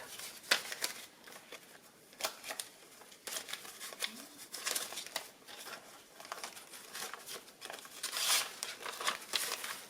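Cash bills pulled from a budget envelope and handled, with soft crinkling paper rustles and quick flicks of notes being counted, close and quiet, coming in irregular bursts.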